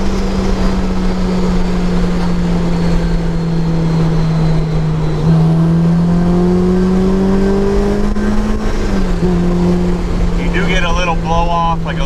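Supercharged Honda S2000 CR from Kraftwerks revving under load with a steady, loud drone heard from the cabin, rising and falling through gear changes, with a brief whoosh of the bypass valve dumping boost near the end.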